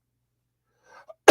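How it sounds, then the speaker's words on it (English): A man, a heavy smoker, lets out a single sharp cough after a near-silent pause and a faint breathy murmur, the burst loud and close. "I get a coughing fit"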